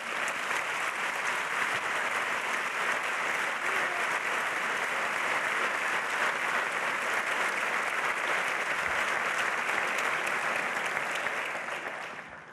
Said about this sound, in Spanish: Un aplauso por ellos, por favor